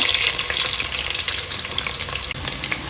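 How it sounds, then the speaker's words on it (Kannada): Steady, loud sizzling of onion frying in hot oil, a continuous bright crackle and hiss with no voices. "ಈರುಳ್ಳಿನ ತುಂಬ ಫ್ರೈ ಮಾಡ್ಕೊಳ್ಬೇಕು."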